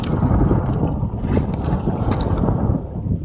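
Strong monsoon wind gusting across a small fishing boat at open sea, a loud, steady roar buffeting the microphone with low rumble throughout.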